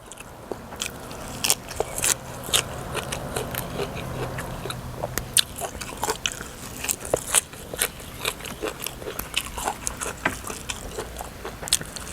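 Someone repeatedly bites into grilled chili peppers, a string of close, crisp crunches and crackles with chewing in between, at an uneven rhythm.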